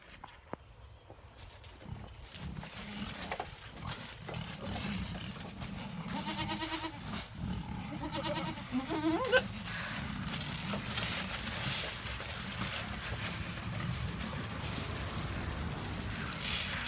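Nanny goats bleating on a pasture farm, repeated calls of varying pitch rising over steady outdoor noise and a mix of animal sounds, fairly close.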